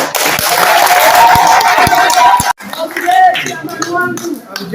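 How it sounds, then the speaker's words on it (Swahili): A crowd at an outdoor political gathering in Kitui cheers and claps loudly as a guest is welcomed. The dense roar breaks off sharply midway, then continues as quieter crowd noise with scattered voices. "Shangwe."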